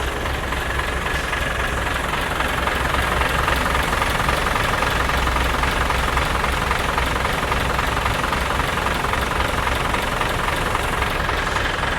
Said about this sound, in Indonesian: Terdengar suara mesin yang sehat ya.